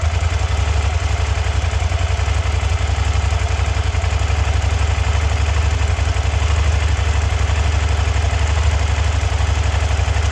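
A Suzuki SV650 swamp bike engine idles right up close, a loud, steady low rumble that holds unbroken for the whole stretch without revving or stopping.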